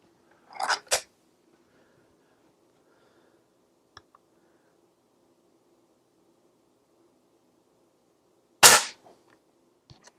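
Gamo air rifle cocked and fired: a sharp crack near the start, a faint click midway, then a second loud crack near the end, with near silence between.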